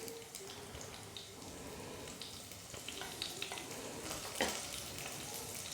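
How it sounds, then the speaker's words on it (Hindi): Whole spices, including fennel seeds, frying in hot oil for a soybean curry, giving a steady soft sizzle with light stirring clatter and a brief scrape near the end, heard alone with no talk. "और मसालों को हल्का सा भून लेंगे"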